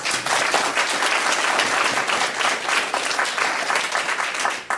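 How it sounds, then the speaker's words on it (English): An audience at a community budget assembly breaks into sustained applause for the presenters, a thick, even roar of many clapping hands that holds steady from start to finish. "let's give them a round of applause"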